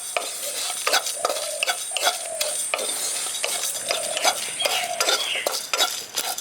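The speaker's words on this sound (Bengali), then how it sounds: "এবার এগুলোকে শুকনো খোলায় আমি ভেজে নিচ্ছি।" Whole fennel, cumin and coriander seeds dry-roasting in a pan, stirred with a utensil in a steady run of scraping, rattling strokes, close and fairly loud with no voices.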